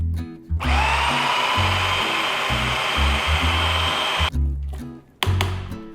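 A food processor grinds ta'ameya, the Egyptian falafel mixture, with a loud, steady motor whine in long bursts that stop briefly and restart.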